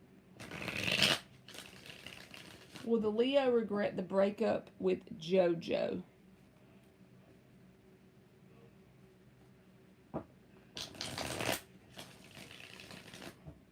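Tarot cards are shuffled in several quick riffling bursts, close and crisp, with a person talking in between.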